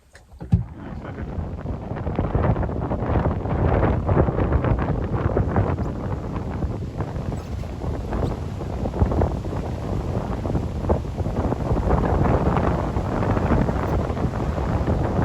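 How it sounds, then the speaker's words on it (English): Wind buffets a microphone outdoors in a low, continuous roar, steady and loud from start to finish with no voices. "It's windy."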